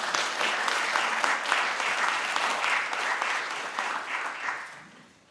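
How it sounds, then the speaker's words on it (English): An audience at an international development assembly applauds steadily, a dense patter of claps that thins and fades out near the end. "Round of applause for her."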